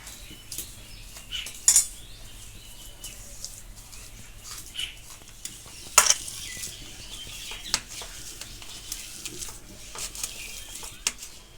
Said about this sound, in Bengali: আলুটা আমি চটকে মেখে নিচ্ছি।